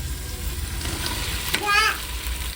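Mint and tomato sauté in a pan with a steady close sizzle and a few stirring scrapes, while a voice briefly speaks over it.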